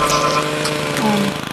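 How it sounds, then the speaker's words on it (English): A lawnmower engine in the video game Happy Wheels buzzes at a steady, rough idle, close and loud for a brief moment before sputtering slightly at the end. "This is a lawnmower."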